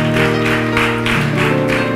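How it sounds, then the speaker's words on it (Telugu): Rhythmic clapping from a church congregation in time with sustained keyboard music, loud and even beats roughly twice a second over the held tones. "చప్పట్లు కొడదాం"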